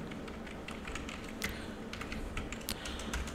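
Fast typing on a computer keyboard while entering text in Tally Prime accounting software, a close, steady patter of light key clicks with a few sharper taps, no voice.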